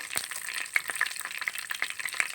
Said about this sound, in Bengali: আমি এখন আগে বাগে একটু পাঁচফোড়ন দিয়ে দিলাম তো একটু নেড়ে সেড়ে অন্য মশলাগুলো দেবো